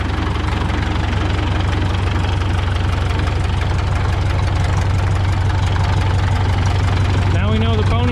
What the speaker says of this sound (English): Now we know the pony engine works.